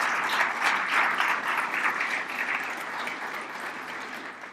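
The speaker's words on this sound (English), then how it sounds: "Would you give our committee members a round of applause?" An audience at a city design awards event applauds the committee members, a steady crowd clapping that swells early and then gradually fades over several seconds.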